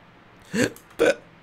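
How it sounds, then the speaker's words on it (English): Two short hiccups about half a second apart, close and fairly loud against near silence. "oh god, hiccups"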